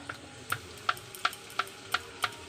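Spices with sugar, salt and chili powder are stirred and fried in a pan, giving a steady series of about six evenly spaced, sharp utensil taps against the pan over a faint background.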